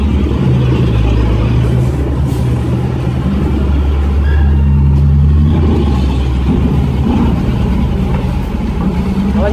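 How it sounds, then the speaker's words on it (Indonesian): A truck's engine rumbles steadily at close range while it idles in a traffic queue, a low continuous drone that swells slightly mid-way with faint surrounding traffic noise. "Tapi truk ini tinggi loh"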